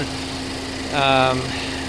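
A standard 2.5 liter four-cylinder engine in a naturally aspirated crossover idles with a steady, close, low hum, and a brief voice-like tone rises over it midway.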